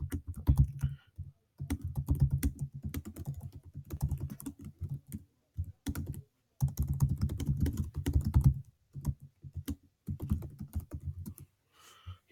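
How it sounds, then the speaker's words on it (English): Typing on a computer keyboard, rapid, close bursts of key clicks with brief pauses between runs, steady and alone without any talk. "I'm going to type 2 sentences about my favorite movie"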